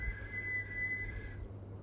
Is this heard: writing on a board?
no